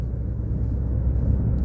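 A nearby truck rumbles steadily, a deep continuous low-end drone with no voices over it.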